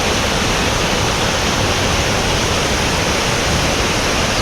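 Brush Creek Falls in a West Virginia state park roars as a loud, steady broadband rush of falling water, heard from across the falls just above the water, constant and unbroken with no talk.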